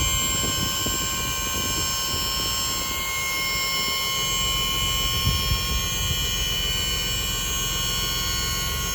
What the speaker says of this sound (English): You guys can hear the Cummins high idling.